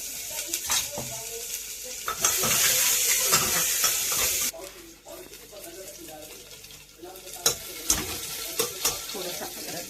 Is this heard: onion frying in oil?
yes